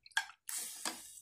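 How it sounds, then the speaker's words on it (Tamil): Water poured from a pot into native chicken curry in a cooking vessel, two short splashy pours separated by a brief pause, close and fairly quiet, with no voices. "தண்ணி ஊற்றிக்கணும். இல்லை ஒரு சொம்பு தண்ணி"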